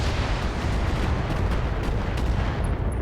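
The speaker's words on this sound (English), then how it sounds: "The Wolverine will close in a little bit and fire on that turret." A Wolverine mech opens fire on a turret in the RogueTech mech-combat game, a dense, continuous roar of heavy weapons fire with rumbling blasts filling the whole stretch, loud and close, with no talking.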